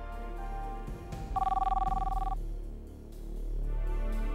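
A cell phone rings in one short burst of steady electronic tone lasting about a second, clear against a quiet background, with no one talking.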